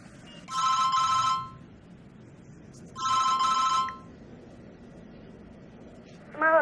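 A telephone rings in two clear electronic trills about two seconds apart, followed by a brief higher ringtone blip, over quiet room tone in a Filipino movie scene.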